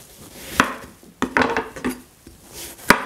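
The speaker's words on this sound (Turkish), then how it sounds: "Çok güzel bir bostan patlıcan var, taptaze. Bunu küp küp doğrayacağız." Knife chopping fresh eggplant into cubes on a cutting board, several sharp irregular knocks with quieter scraping between them, close and without talk.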